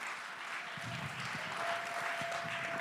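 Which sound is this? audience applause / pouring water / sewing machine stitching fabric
audience applause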